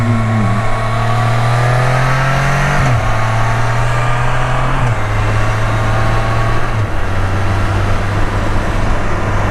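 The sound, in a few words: car downshifting, engine revving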